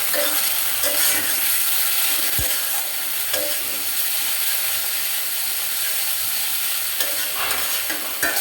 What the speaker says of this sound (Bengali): খুব সুন্দর করে এখন কষিয়ে নিব একটু জল দিয়ে। কষানোর সময় একটু পর পর নেড়ে দিতে হবে।